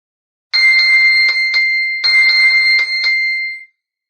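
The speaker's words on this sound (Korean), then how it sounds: "이렇게 요란한 소리를 내면서 스마트폰의 위치를 찾을 수가 있습니다" Loud, shrill ringing alarm from a smartphone, set off by the find-phone feature of a Xiaomi Mi Band 6, in two bursts of rapid bell-like pulses separated by a short gap, with no voices.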